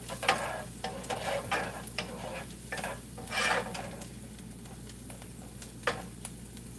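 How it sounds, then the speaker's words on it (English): A spoon stirs tomato-style sauce with garlic, oregano, basil and a little sugar in a pot, giving soft intermittent scrapes and clinks against the metal over a faint simmering hiss. "we're just gonna keep stirring this"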